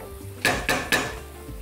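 A spoon knocks three times against a pan while stirring a filling with a pinch of salt, sharp close metallic clinks over a low background hum.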